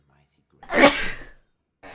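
A single loud, close sneeze bursts out sharply and trails off over about half a second, with talking around it.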